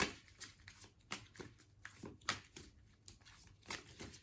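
Tarot cards are shuffled close by, making soft, rapid riffling bursts in an irregular rhythm, faint and without talk.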